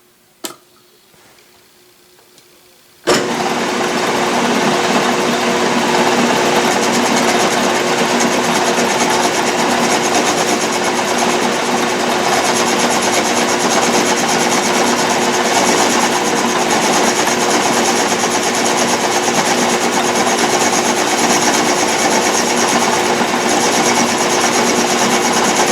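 Atlas lathe cutting a Woodruff keyseat with a sharp cutter and cutting oil, a brief click then a steady, loud mechanical whirring hum with a faint rhythmic ticking that runs on unchanged.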